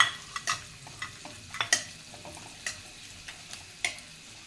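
Curry leaves and finely chopped garlic fry in oil for dal fry, with a quiet sizzle broken by sharp spatula scrapes and taps at irregular intervals, nearby and fairly soft.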